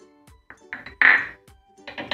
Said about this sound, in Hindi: अब हम इसमें काजू बादाम डालेंगे